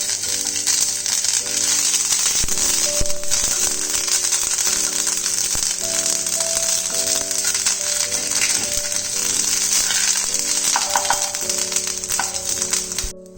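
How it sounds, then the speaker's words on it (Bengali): Half a teaspoon of ginger paste fries in hot oil for Bengali cauliflower shingara, a loud continuous close sizzle with scattered crackles and pops, unbroken throughout. "আদাটা ফ্রাই হতে হতে আমি এর মধ্যে কাঁচা লঙ্কাটাও ফ্রাই করে নেব।"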